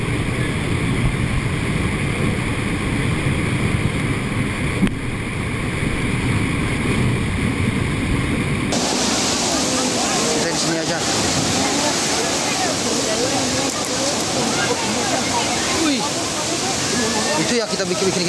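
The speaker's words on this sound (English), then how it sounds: "Check out how this aircraft carrier takes on those massive ocean waves like an absolute pro." Massive ocean waves crash and slosh against an aircraft carrier at sea. The roar is steady and loud, with heavy wind and water rushing all through and a sharp change in texture partway.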